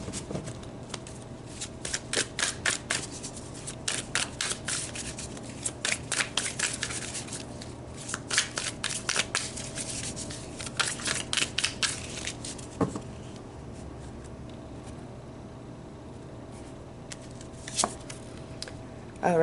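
Tarot cards are shuffled close by in repeated quick bursts of riffling and slapping, with pauses between rounds and no talking.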